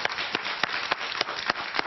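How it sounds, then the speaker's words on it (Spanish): Steady applause from a studio audience greeting a guest on a Miami evening talk show, with dense close clapping and a few sharper individual claps standing out, running unbroken with no talk over it. "Un aplauso para él, por favor."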